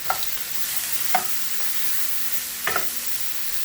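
Sausage fries in a hot pan with a steady sizzle. A spoon or spatula scrapes through it three times in brief, distinct strokes, and no one speaks.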